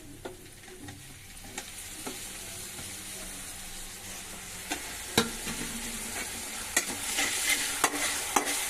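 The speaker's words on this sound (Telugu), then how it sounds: "కొంచెం వేగేదాకా, ఎక్కువ మాడకూడదు." Bitter gourd frying with onion, ginger and garlic in a pan for a Telugu-style curry, a steady close sizzle under repeated scraping stirs and spatula taps that grow busier toward the end; no talking.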